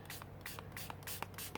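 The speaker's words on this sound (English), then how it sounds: "If you spray it with water, then it will expand only" Water is sprayed from a hand spray bottle onto paper for a vintage mixed-media art journal collage, a series of about eight short, close hissing pumps in a quick uneven rhythm.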